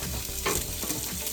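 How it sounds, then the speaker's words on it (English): Fresh minced garlic and ginger sautéing for spicy Mongolian beef, a steady sizzle with the scrape of stirring in the pan, close and continuous. "We're sauteing, y'all."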